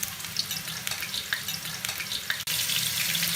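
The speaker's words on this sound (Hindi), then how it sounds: "अब हम इसमें मशरूम डाल लेंगे।" Mushrooms frying in hot oil over medium-low heat for a matar mushroom curry, a steady crackling sizzle throughout with a few sharper pops, close and fairly quiet, with no voices.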